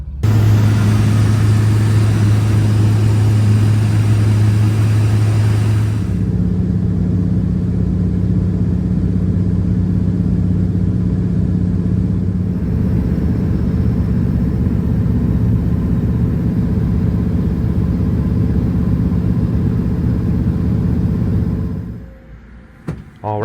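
A small plane's engine drones steadily from inside the crowded cabin of a bush flight to Glacier Bay, Alaska, loud and continuous, with a pitch shift early on and fading near the end.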